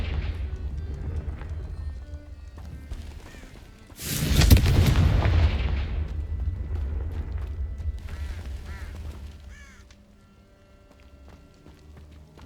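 A booming burst from the Confringo fire spell in Hogwarts Legacy, a sudden loud blast that rumbles and slowly fades over several seconds above a steady game backdrop.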